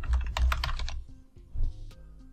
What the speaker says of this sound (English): In the search bar, type the plugin name,